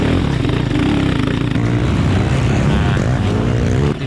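Racing 700cc two-stroke sidecar motocross engines of about 85 horsepower roar loudly and steadily, several machines overlapping in a continuous raw, buzzing snarl close by.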